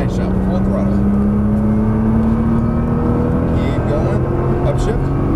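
Car accelerating at full throttle on a race track, a steady engine drone rising slowly in pitch, heard from inside the car with a voice talking over it.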